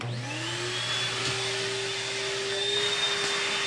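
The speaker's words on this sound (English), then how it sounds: "Activating vacuum unit." A vacuum running steadily throughout, a continuous droning whine with a rising motor pitch at the start, close and loud, no talking.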